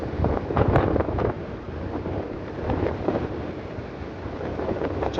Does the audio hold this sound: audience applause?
no